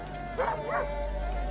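A dog in Assassin's Creed Origins gives a couple of short yipping barks and whimpers over steady game ambience, with a faint voice in the background.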